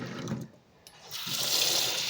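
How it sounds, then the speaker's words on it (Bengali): Soaked peas are being washed in water, with splashing and swishing in a kitchen vessel and a running stream that swells toward the end, near and moderately loud. "আর এখন মটরটা একটু ভালো করে ধুয়ে নিই।"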